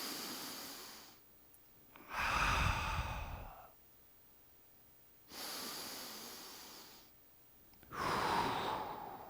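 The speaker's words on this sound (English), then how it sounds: "Let's breathe here." Deep, slow breathing during a yoga backbend class: three long, audible breaths in and out, separated by quiet pauses, close and without talk.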